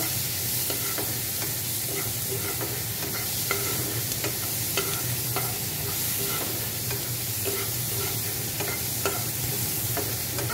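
Chopped onion and garlic fry in oil in a pan, with a steady sizzle and occasional scraping taps of a stirring spoon, close and continuous with no talk.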